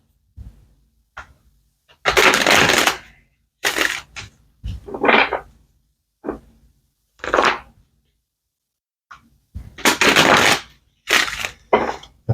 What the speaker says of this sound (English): I'm hearing one more shuffle for Gemini